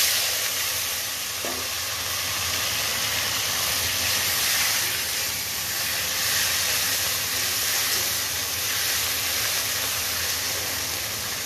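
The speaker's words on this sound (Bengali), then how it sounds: "এটাকে ভালো করে ভেজে নেব একটু, তারপর মশলাগুলো দিয়ে দেবো।" Chopped onion and tomato fry in a pan with a steady, dense sizzle and hiss that holds evenly throughout, close and fairly loud with no talking.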